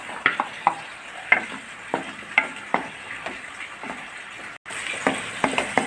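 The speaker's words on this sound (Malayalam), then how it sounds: "എണ്ണ ചൂടായിട്ടുണ്ട്. ഉള്ളി ഇട്ട് കൊടുക്കാം." Onions hit hot oil for a chicken curry and sizzle steadily, with rhythmic scraping and clinking as they are stirred in the pan, close by and moderately loud.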